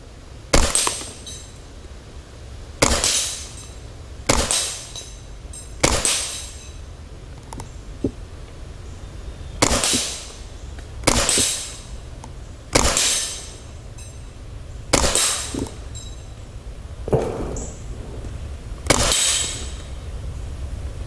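Ruger 10/22 firing Aguila 60 grain subsonic rounds at a Caldwell steel popper 50 yards out, about a dozen evenly spaced sharp cracks, each trailed by a faint metallic ring, with quiet between shots.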